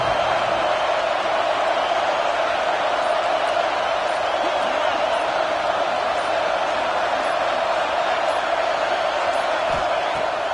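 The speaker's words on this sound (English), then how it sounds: "The black shirts looking to this crowd, and they are delivering energy on this big 3rd down." A football stadium crowd roars on a big third down, a dense, loud, unbroken wall of cheering that holds steady, with a commentator's voice likely mixed underneath.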